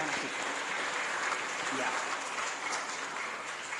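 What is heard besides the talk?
church congregation applause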